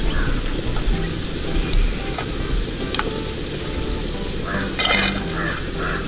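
Julienned ginger hits hot oil in a pan while cooking Kerala dry roasted chicken, giving a steady loud sizzle and crackle that carries on throughout with no talking.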